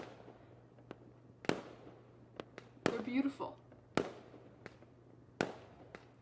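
Fireworks set off by protesters burst in scattered sharp cracks and pops, roughly one every second, with a person speaking briefly between the bangs over a low steady hum.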